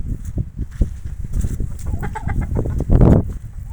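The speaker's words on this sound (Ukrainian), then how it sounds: "От мої індики." Several turkeys gobble and cluck nearby, a busy overlapping flurry of calls that swells into a louder burst toward the end.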